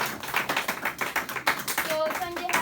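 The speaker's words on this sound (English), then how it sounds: "would you mind to give a round of applause for the Sanjay as well?" A small class applauds a student who has just answered, a few seconds of scattered hand claps in a room with some background voices mixed in.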